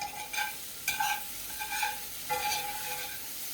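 Vegetables are stirred in a pan of spaghetti sauce, a spoon scraping through the thick mixture in a few slow strokes with a light simmering sizzle, close and fairly quiet, no talking.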